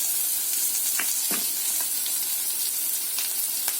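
Vegetables frying in a pan for a tomato curry, a loud continuous hiss of oil with a few soft scrapes and clicks of stirring scattered through it.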